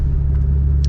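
Deep, steady exhaust rumble from a Ford Mustang drift car with a 3-valve V8, a continuous low drone with no break and no talking.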